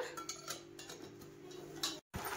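A spoon stirs sugar into lassi, giving light, rhythmic clinks and ticks against the vessel, fairly faint over a steady low hum, with a brief dropout near the end.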